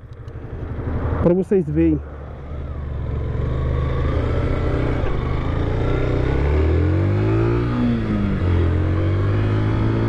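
A Yamaha FZ-15 motorcycle riding uphill, its engine droning steadily and rising in pitch as it climbs, heard close under wind noise after a brief spoken remark at the start.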